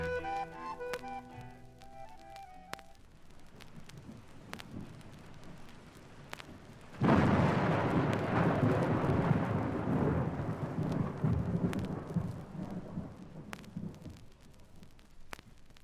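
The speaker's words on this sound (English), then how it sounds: "The simple sound of a storm has been used dramatically for years." A staged storm sound effect on a vintage promo vinyl record: rolling thunder rumbles and steady rain swell in suddenly after a brief musical intro, then a dense, loud wash of rain and thunder continues.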